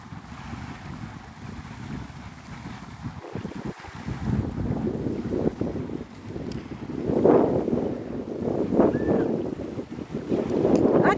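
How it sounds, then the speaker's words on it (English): Wind buffets the microphone beside the water at Santa Rosa Sound in Navarre, Florida, rumbling in uneven gusts that grow stronger toward the end, with a faint wash of waves beneath. "The wind is what's keeping me cool, so I'm actually grateful for it"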